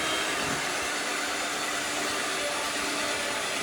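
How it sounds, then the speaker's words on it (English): Electric mixer whipping buttercream icing, a loud, steady whirring hum that fills the space without pause, close by and with no talking over it. "It's hard to talk over your loud mixer."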